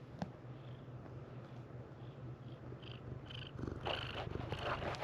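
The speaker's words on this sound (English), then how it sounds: "Kitty purr." A cat purrs close by in a low, steady rumble that runs throughout, quiet but continuous, with some faint rustling toward the end.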